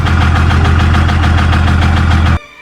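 A loud engine, just restarted, runs with an abnormal rhythmic knocking clatter pulsing several times per second, then cuts off abruptly near the end.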